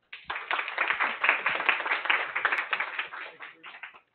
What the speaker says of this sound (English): So round of applause for Scott